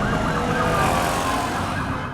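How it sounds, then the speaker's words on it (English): Emergency sirens wail through a busy Jakarta street scene from The Last of Us TV series, set in September 2003, a steady loud wash of siren tones over dense city traffic and crowd noise. "you can already hear sirens starting"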